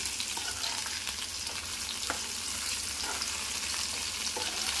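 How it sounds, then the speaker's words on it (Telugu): Ingredients frying in a kadai until golden, a dense, constant oil sizzle with occasional stirring scrapes and pops, close and steady, heard alone without talk. "మరీ ఎక్కువ మాడద్దు గోల్డ్ కలర్ వచ్చే వరకు మనం ఫ్రై చేసుకోవాలి"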